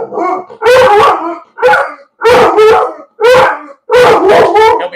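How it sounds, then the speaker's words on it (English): A dog named Duke barks and howls in loud, close bursts, roughly five or six separated volleys over a few seconds, reacting to other dogs passing outside on the street. "Duke is going nuts because Duke owns this street."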